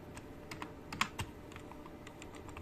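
Fingers type on a computer keyboard, entering text into a Shopify store's header editor: a handful of quiet, close, irregular keystrokes and clicks with no talk.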